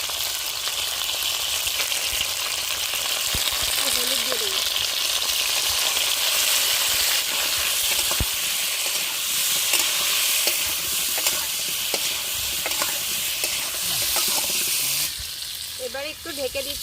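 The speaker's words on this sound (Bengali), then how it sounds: "এবার ঢাকনাটা তুলে নাড়াচাড়া করে নেব" Pointed gourd and shrimp fry in a pan, village style, with a steady loud hiss and bursts of stirring scrapes from a spoon against the pan, close up, with no talk heard.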